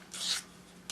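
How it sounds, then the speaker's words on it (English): Sanding a forged metal fibula pin, two bursts of dry rasping strokes, one longer and one starting at the end, close and fairly quiet with no talk. "Sand it."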